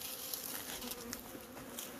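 Honey bees buzz around an open hive box in a faint, steady drone, many insects overlapping at a distance with a few sharper passes nearby.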